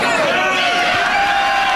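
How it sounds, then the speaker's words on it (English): Wrestling fans at a British FWA event cheering, a loud continuous crowd roar with whoops and scattered shouts filling the arena. "The fans cheering him on"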